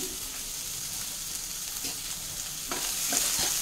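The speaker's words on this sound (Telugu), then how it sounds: "ఇప్పుడు ఇక్కడ ఆలు, క్యాప్సికమ్, బీన్స్, క్యాలీఫ్లవర్, క్యారెట్ ఇవన్నీ వేసేస్తున్నాను." Chopped potato, capsicum, beans, cauliflower and carrot fry in a pan for a pulao, giving a steady close sizzle that grows a little louder and busier near the end, with a few stirring clatters and no talking.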